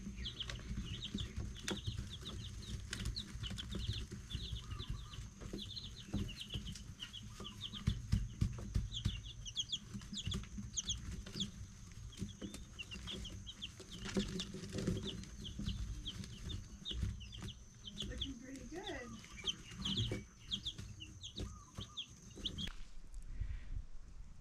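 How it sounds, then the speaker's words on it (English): Red star hens clucking steadily throughout, a flock of brown-egg layers at close range with overlapping calls and a brief flutter of wings, no talk. "They're all hens, red star hens, I was told, and they lay brown eggs."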